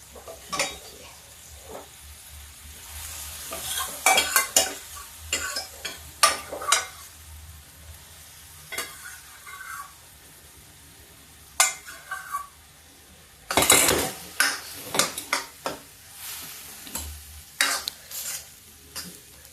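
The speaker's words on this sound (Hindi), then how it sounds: "ये चमचा लेते हैं और चमचा से इसी साग में मैं दाल को मिक्स करूंगी" A spoon stirs and scrapes lentils (a mix of four kinds) into spinach in an iron wok, giving irregular clinks and scrapes with faint sizzling between them, plus a louder scraping burst partway through.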